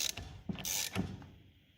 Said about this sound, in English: you just turn the ratchet